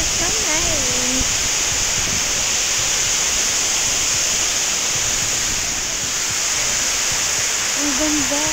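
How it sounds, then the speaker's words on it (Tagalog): A waterfall near Taipei, Taiwan roars as a loud, constant wash of rushing water close by, with a voice speaking briefly over it at the start and again near the end. "The waterfall."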